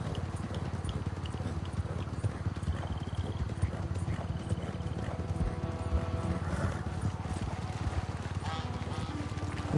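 Rhythmic hoof clip-clop of a trotting mare in Red Dead Redemption 2 runs steadily throughout, close and even, with someone talking over the hoofbeats.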